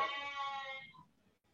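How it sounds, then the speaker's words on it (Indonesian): A goat bleats once near its pen at a house, a close, wavering cry that fades out after nearly a second into quiet background noise. "Ada suara kambing itu."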